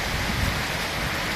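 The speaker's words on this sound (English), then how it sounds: "It's raining cats and dogs." Heavy rain pours down steadily, a dense, continuous hiss of drops on surfaces with a low rumbling undertone, loud and close throughout without any voices.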